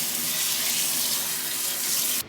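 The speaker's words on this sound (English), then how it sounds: "Got our sink. Really love this faucet." A sleek outdoor kitchen sink faucet runs steadily, water pouring into the basin with an even, close rush that cuts off abruptly at the end.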